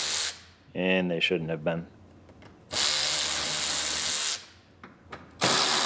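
A power tool backs screws out of a Lincoln MKT in two long, steady whirring runs at close range. A voice speaks briefly between them, and short clicks and rattles come before them.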